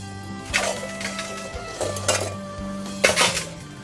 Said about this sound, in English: We're gonna whisk in the eggs.